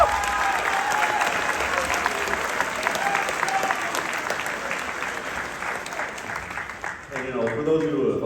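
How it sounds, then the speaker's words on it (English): A crowd at a Lourdes Academy graduation ceremony applauds the class of 2026 with dense, sustained clapping close by, fading near the end as a voice begins speaking. "let's give them all a huge round of applause"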